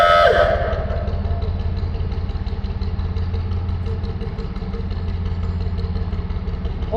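Steady thumping diesel engine of a narrowboat cruising the Oxford Canal as it passes under a bridge, a low, even chugging idle with clattering overtones echoing close by throughout.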